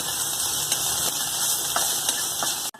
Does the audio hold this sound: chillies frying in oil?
yes